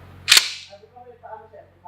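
A single sharp pistol or shotgun shot cracks close by at a firing range, followed by a short fading tail and faint voices talking afterward.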